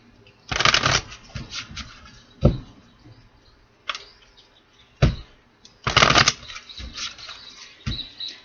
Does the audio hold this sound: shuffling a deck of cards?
yes